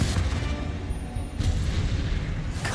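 A Confringo blasting spell explodes in Hogwarts Legacy, a deep, booming blast with heavy low rumble that rolls on continuously, swelling again midway and near the end.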